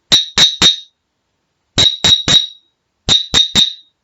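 Glasses struck with a wooden spoon in three sets of three bright, ringing clinks, each short and clear, with silent gaps between groups.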